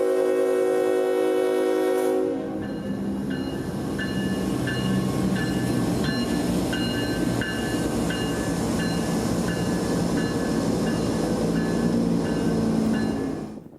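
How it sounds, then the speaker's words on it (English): A CSX freight train, the Tampa to Waycross M442, works at Falkenberg at sunset with a loud steady rumble of cars and engine, and the horn sounds near the start, close and dominant throughout. "At sunset, a normal M442, the Tampa to Waycross daily freight, is seen here at Falkenberg, tripling out his train before picking up his conductor."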